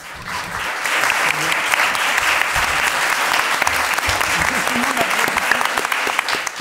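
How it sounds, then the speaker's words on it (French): Audience at a round-table evening on film editing applauds to close the session, dense continuous clapping filling the room with scattered voices mixed in underneath. "Qui applaudit qui ?"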